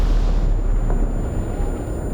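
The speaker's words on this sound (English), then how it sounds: "It's even simulating the sound of the explosion." Explosion in the VR game War Remains, set in a World War I battle: a low, heavy rumbling boom that rolls on steadily and loudly for a couple of seconds without speech.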